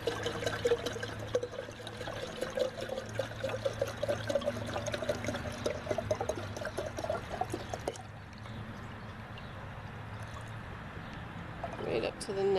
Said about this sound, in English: I'm gonna fill up the rest of the bottle